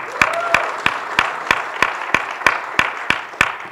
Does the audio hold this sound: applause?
yes